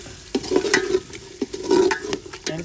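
Peas and spices frying in a pan while being stirred, close and fairly loud, with steady sizzling broken by repeated scraping stir strokes; no talking.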